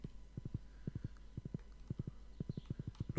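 Horse hooves clip-clop in the Stardew Valley video game, a steady run of quick clustered steps repeating across the whole stretch, moderately loud over a faint low background hum, with no talk.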